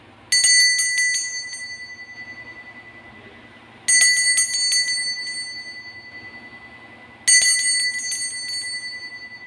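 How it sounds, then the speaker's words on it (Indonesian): A bright bell rings three times at even intervals, each strike bright and close, shimmering and slowly decaying before the next. "dengan ditandai dengan lonceng berbunyi"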